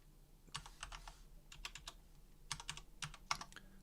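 Typing on a computer keyboard to enter commands on a Raspberry Pi, heard as bursts of quick, close clicking keystrokes separated by short pauses, with no talking.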